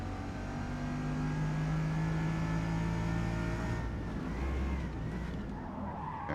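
Bugatti Veyron in Forza Motorsport at Le Mans, engine droning loudly with tires skidding and squealing as the car slides off the track, then a rough scrape onto sand near the end.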